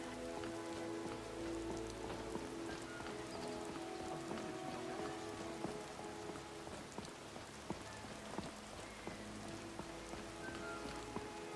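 Rain in the video game Skyrim VR pours steadily, a dense continuous hiss of drops on surfaces with a low rumbling undertone, even and fairly loud with no talking.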